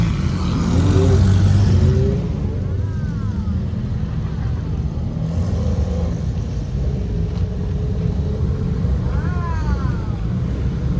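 Supercars pulling away and accelerating down a New York street at a charity run, a heavy low engine rumble that swells early and then holds steady, with faint voices nearby.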